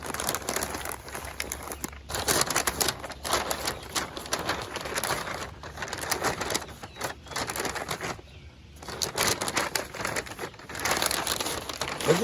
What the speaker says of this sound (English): we wrap this up here to get it tight. And you don't want to use too much butcher paper